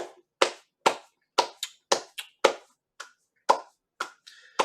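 Roughly ten sharp hand claps land close by in an uneven rhythm, each a crisp slap with short gaps between, and no one speaks.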